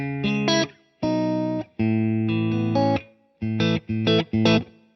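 An electric guitar through a Boss IR-2 amp and cab pedal plays short chords and stabs with a light overdriven edge, separated by brief pauses.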